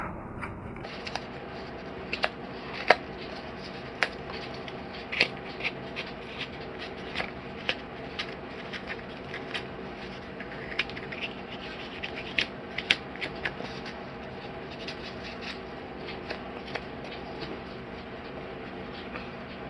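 Foam-cutting work on a model railroad layout: pieces sliced and pulled off layout foam, giving a steady run of dry rubbing and scraping with scattered sharp clicks and snaps, close and fairly quiet with no talking.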